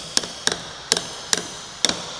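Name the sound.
tapping a generator back cover with a brass hammer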